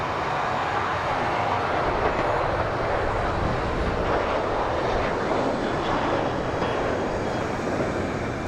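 Engines of an Emirates Airbus airliner at Manchester Airport roar in a broad, steady rush, loud and sustained throughout with no voices.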